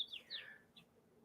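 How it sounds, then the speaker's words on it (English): Birds chirp outside an open window, a few quick high tweets and a short call in succession, faint and distant over quiet room ambience. "I hear the sweet birdies."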